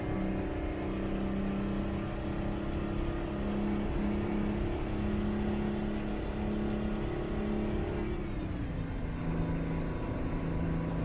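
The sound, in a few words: old Mack truck engine in American Truck Simulator video game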